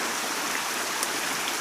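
River water running steadily at unusually high depth, a continuous broadband rush with no voices.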